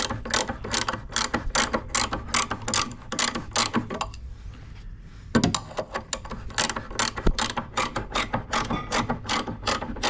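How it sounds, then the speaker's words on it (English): A 19mm ratchet spanner works bolts on a Land Rover Evoque during rear differential removal, giving rapid, regular clicking strokes close up, with a brief pause and a clunk midway. "I've got a 19mm spanner on because it's the only 19 ratchet we've got."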